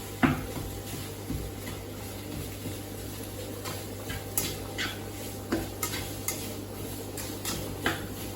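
Minced meat and onions are stirred together in a frying pan for stuffed courgettes, with a utensil scraping and clicking against the pan in irregular bursts over a low, steady background hum. No one speaks.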